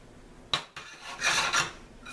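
Stir-fry flipped in a frying pan: a sharp metallic scrape and clack, then a sizzling rasp of food landing and shifting, close and brief in an otherwise quiet kitchen.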